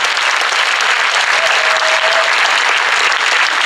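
A large audience at the Miss Nord-Pas-de-Calais regional pageant applauds all twenty contestants, with loud, dense, continuous clapping that fills the hall evenly from start to finish.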